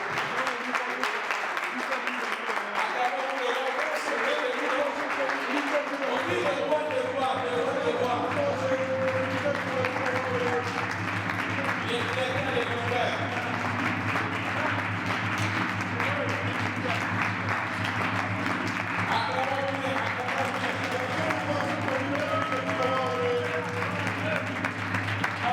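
A crowd at a church gathering in Burkina Faso applauds and cheers for the king in continuous, dense clapping, with voices and a sustained tone running underneath throughout.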